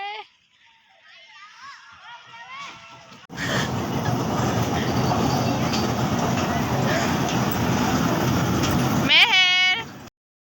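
Inside a moving passenger train, a steady loud rattling rumble of the cars carries on for several seconds, with a voice and talk heard before it starts and near its end.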